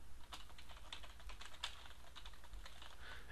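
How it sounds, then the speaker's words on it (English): Quick, soft typing on a computer keyboard as a task name is entered in time-tracking software, a steady run of light key clicks, faint and close. "type the name of a new task"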